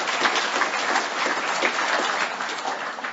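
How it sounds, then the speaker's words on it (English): Conference audience applauding, a dense steady clapping that fills the hall at close range and holds level throughout without pause. "Give yourselves a hand."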